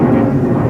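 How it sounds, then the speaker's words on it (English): A fixed-wing airplane roars overhead in a loud, broad, steady engine drone, heard briefly and close with no talk. "There's a plane."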